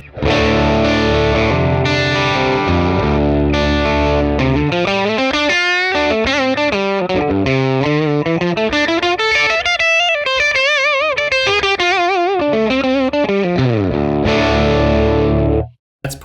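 Distorted electric guitar in drop D tuning, played on the bridge pickup through a Tonex capture of a 1966 Fender Blackface Bassman amp. Loud, continuous riffing and chords run for about sixteen seconds before stopping abruptly.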